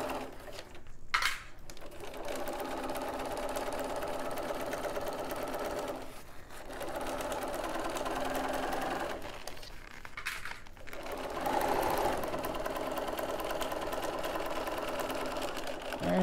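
Sewing machine stitching a seam on a slip-on head cover, fast rhythmic mechanical chatter running in long bursts with a few brief pauses between them, close and fairly quiet, with no voices.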